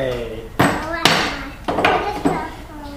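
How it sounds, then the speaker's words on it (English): Four sharp hammer strikes as a child drives a nail into wood for a birdhouse, spaced unevenly about half a second apart, close and loud with faint background voices. "Let's put another nail in."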